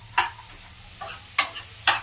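Ingredients for paneer vegetable fried rice, including broccoli, frying in a pan: a low background sizzle broken by several sharp scraping stirs, with no talk.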